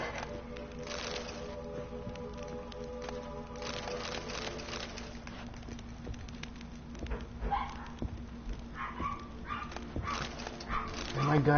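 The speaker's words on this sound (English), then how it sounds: "Oh my god, dogs." Dogs bark and yip in the Witcher 3 video game, repeated barks and whimpers sounding over steady game ambience and music, growing louder toward the end.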